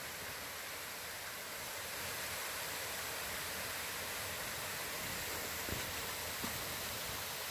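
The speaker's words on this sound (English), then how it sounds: "it's an awesome waterfall" Steady broadband roar of a waterfall near Potato Patch Campground on the Pictured Rocks National Lakeshore trail, a continuous rushing wash of falling water that is loud and unbroken throughout.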